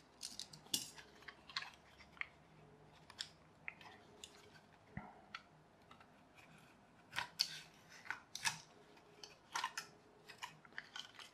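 Excess material on a homemade action camera mount for an RC Jeep Cherokee is trimmed by hand: quiet, close, irregular snips and clicks in scattered clusters over a low room hush.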